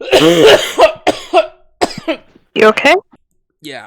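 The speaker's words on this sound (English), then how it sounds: "I was coughing" A person coughs several times in quick rough bursts at close range, with brief spoken exchanges between the coughs.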